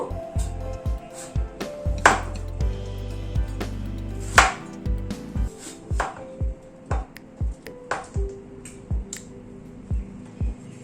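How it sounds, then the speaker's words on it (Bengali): A knife cuts a potato into long strips on a cutting board, making a steady run of sharp, close chops with brief pauses between them. A faint voice is heard under the cutting. "আলুটাকে প্রথমে লম্বা লম্বা করে কেটে নেব।"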